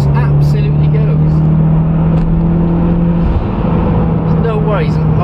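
A 2011 Mitsubishi Evo X FQ300 SST drives along open road, its engine droning steadily from inside the cabin with a held tone that shifts as speed changes, while someone talks over it.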